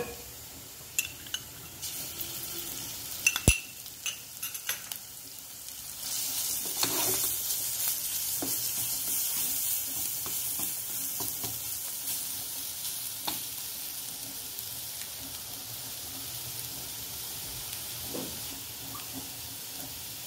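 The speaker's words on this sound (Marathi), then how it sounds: "आले लसणाची मिरचीची पेस्ट आपण परतून घेऊ" Ginger, garlic and chili paste sautés in oil over a medium flame, a steady soft sizzle with occasional clinks and scrapes of a spoon, the hiss swelling louder partway through.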